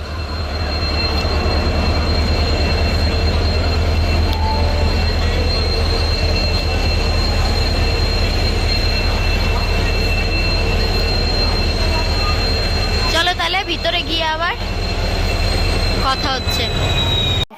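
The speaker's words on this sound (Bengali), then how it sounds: "ফাইনালি আমাদের ট্রেনটা চলে এসেছে তো আমরা এই ট্রেনেই যাবো" A passenger train pulls into a railway station with a loud, continuous close rumble of wheels on rails; sharp squeals of the wheels or brakes rise near the end, and voices are faintly audible.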